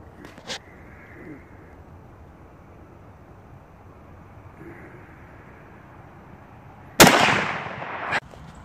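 A single sharp .243 rifle shot cracks loud and close while sighting in for deer season, preceded by a fainter distant report and followed by a brief trailing echo over quiet outdoor ambience.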